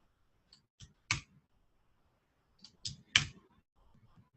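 A few sharp key clicks from a computer keyboard as a password is typed, close and isolated, in two short clusters separated by a pause in a quiet room.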